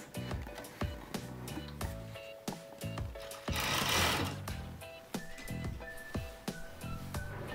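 A sewing machine runs in repeated bursts of stitching along the side seams of a child's coat, with a brief louder whir partway through and steady mechanical chatter throughout, close by and with no talking.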